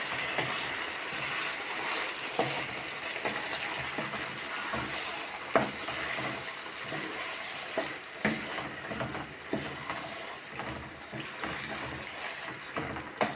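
Rice toasts in a pan for pilaf in a home kitchen, a steady quiet sizzle and crackle broken by soft scraping stirs at irregular intervals.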